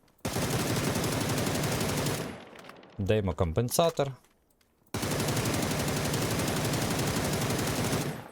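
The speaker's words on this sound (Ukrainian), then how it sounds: "Спочатку по ближнім автомобілям стріляємо, щоб рука привикла." Sustained bursts of automatic rifle fire in PUBG, loud and close, shooting at nearby cars, with a short spoken remark in the pause between two long volleys.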